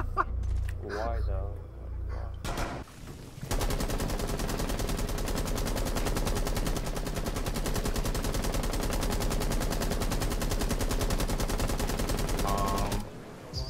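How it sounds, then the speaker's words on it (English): Sustained LMG machine-gun fire in Rainbow Six Siege, a dense, rapid, continuous burst running loud for about ten seconds after a brief stretch of other gunfire and game noise, then cutting off abruptly. "Someone's spamming an LMG right now."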